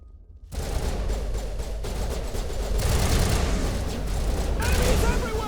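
A video game firefight against mercenaries, with sustained heavy gunfire and booming impacts building after a brief silent start, the fire dense and continuous, and voices speaking over it.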